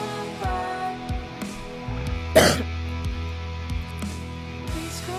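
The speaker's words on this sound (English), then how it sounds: "Complete with a live cough there" A single sharp live cough lands in the middle of music playing in the background, brief and close to the microphone.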